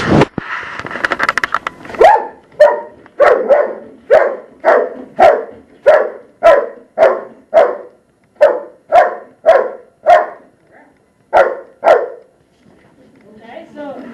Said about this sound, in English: if you put it behind your back, she'll bark at you